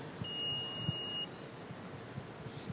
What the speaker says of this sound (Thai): ถ้าสมมติว่า Husky Lens ตัวนี้นะครับอยู่เจอหน้าที่อยู่ในระบบจะเป็นแบบนี้ครับจะมีเสียงปี๊บ